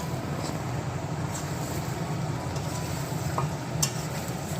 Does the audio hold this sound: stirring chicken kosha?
yes